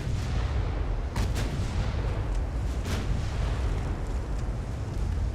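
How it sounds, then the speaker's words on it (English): Warship guns fire in the naval video game Ultimate Admiral: Dreadnoughts, with a few sharp, booming salvos standing out above a constant, heavy rumble of distant battle. "you will get every gun that I have, pretty much, firing on you"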